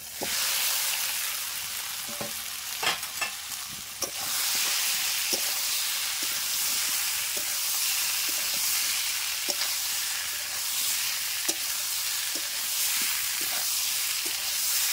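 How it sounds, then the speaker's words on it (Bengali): Boiled potatoes frying in hot oil make a steady, bright sizzle that fills the whole stretch, with occasional small clicks from stirring and no voices. "এখানে আলুটা সেদ্ধ করা ছিল, এবার ভেজে নেব।"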